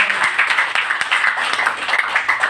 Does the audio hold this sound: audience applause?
yes